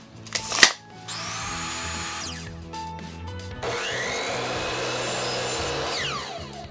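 Power saw cutting a wooden board into seven-inch pieces for a simple wooden cross, with two sustained rasping cuts following a short knock, fairly close and without talk.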